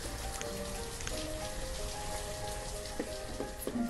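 Rain falls in the city-building game Banished as a steady, even hiss with scattered drop patter, accompanied by faint tonal game sounds and no speech.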